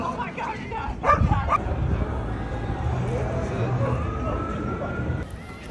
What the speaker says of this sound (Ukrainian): Много собак.